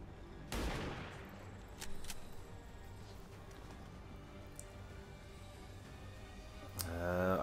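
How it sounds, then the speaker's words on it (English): Sniper rifle in XCOM 2 firing one sharp, loud crack with a decaying tail, then a few quieter clicks and impacts and a second burst near the end, over a low ambient game soundtrack. "you can just shoot the target from here with your sniper rifle?"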